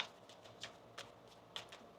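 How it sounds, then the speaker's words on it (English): Tarot cards being shuffled by hand, with soft papery riffles and several sharper flicks spread across two seconds, faint and close with no talk. "One more shuffle."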